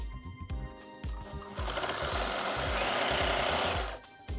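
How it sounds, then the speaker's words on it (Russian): An overlock machine sews the side seams of a lingerie garment, starting with a few short stuttering runs, then settling into one long fast whirring stretch before stopping, loud and close. "Осталось только боковые швы сшить на оверлоке, я это буду делать."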